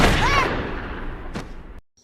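A gunshot from the 2004 film Kung Fu Hustle, where a woman is shot by the Axe Gang: one loud, sharp blast with a trailing decay, a short second crack near the end, then sudden silence.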